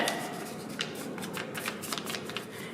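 Sheets of green paper are handled and divided for a Christmas craft, giving continuous close rustling and crinkling with a few sharper crisp rubs and no talk over it.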